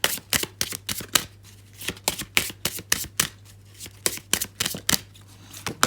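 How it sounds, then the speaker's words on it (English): A deck of rune cards is shuffled by hand with quick, crisp riffling bursts in an uneven rhythm, close and clear. "So bear with me as I shuffle."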